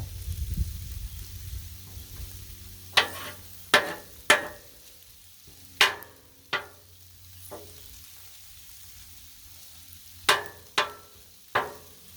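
Beef stir fry sizzling on a Blackstone griddle, a soft continuous hiss broken by a series of sharp, loud scraping clacks of spatulas against the flat-top.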